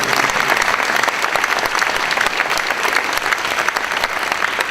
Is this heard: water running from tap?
no